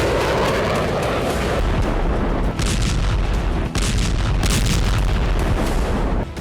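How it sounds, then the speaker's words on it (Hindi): Heavy Russian bombardment in Ukraine, with a dense, continuous roar of explosions and booming impacts, loud and sustained, with distinct heavier blasts rising out of the rumble toward the end. "24 घंटे के अंदर रूस ने यूक्रेन में कई मोर्चों पर भीषण बमबारी की।"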